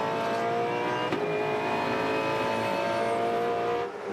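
A V8 Supercar engine at Albert Park in 2014 revs hard through smooth gear shifts, a loud, sustained howl of rising tones broken by a brief shift and a dip at the end.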